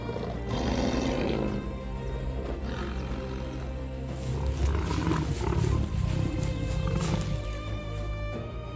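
A lion roars on the savanna, deep rumbling calls rolling over a steady wild outdoor background, continuous and fairly loud throughout.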